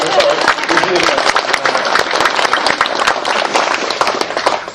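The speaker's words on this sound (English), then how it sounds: "You can clap." Lunch fundraiser crowd in Westlake Village, California, applauding an announcement of money raised: loud, close, continuous clapping from a roomful of people, steady for several seconds with crisp individual hand claps mixed into the wash.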